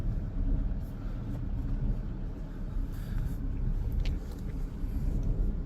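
A Mini Cooper with engine codes and drivability issues on a test drive, a steady low road and engine rumble heard from inside the car, continuous and moderately loud with faint rattles.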